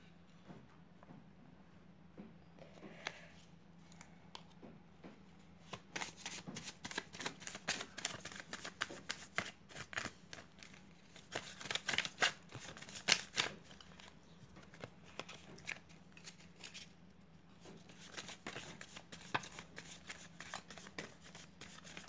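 Tarot cards are shuffled and drawn by hand, giving faint, quick papery riffles and flicks that grow busier and denser after a quiet start, with no voices.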